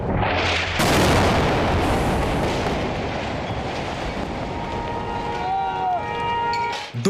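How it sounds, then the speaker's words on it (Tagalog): A heavy blast from an airstrike on a residential building in Beirut, Lebanon erupts early and is followed by a long, rumbling roar of debris and noise. A faint tone whines near the end. "Dumagundong ang malakas na pagsabog ng tamaan ng airstrike ang isang residential building sa Beirut, Lebanon."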